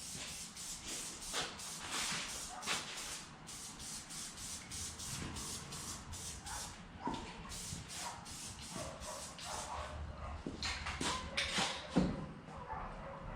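Gorilla Glue spray adhesive hisses out in a series of short, repeated sprays onto a figure's head, near and fairly quiet, with faint rubbing and handling sounds between bursts and no talking.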